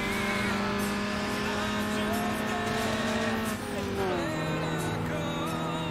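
A Dodge in a racing video game drives with a steady engine drone whose pitch holds, then dips and shifts mid-clip, accompanied by tire noise throughout, with a voice talking over it.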